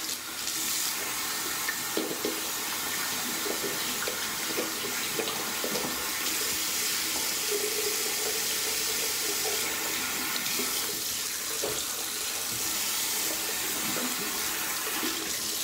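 A tap runs steadily to rinse leftover shaving soap away, producing a continuous close hiss of flowing water with faint splashes and small clinks partway through.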